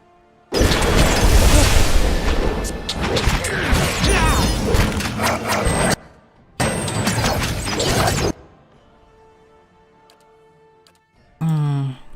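Cannon fire and battle clangor in the fantasy role-playing game Pillars of Eternity: loud, dense bursts with booms and metallic mechanical clanks, a brief pause, more rumbling, then near-quiet before a short final burst.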